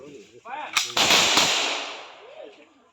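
A gun salute fired on command at a ceremony honouring a freedom fighter, with a volley of sharp shots and a long rolling echo outdoors, loud and close, and faint voices before and after.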